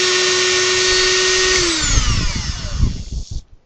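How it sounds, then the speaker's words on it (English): A Dremel 4000 rotary tool runs at 20,000 RPM with a loud, high, steady whine close by, then winds down and falls silent. "As you can tell, it gets significantly louder when you put it up a few more thousand RPMs."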